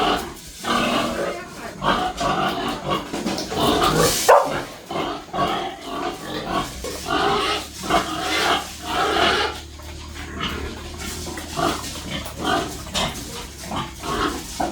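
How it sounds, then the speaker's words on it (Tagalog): Hungry pigs at feeding time on a farm squeal and grunt in a loud, continuous chorus, with shrill squeals rising over a rough, steady clamour and some faint voices in the background. "Ingay po ng mga baboy."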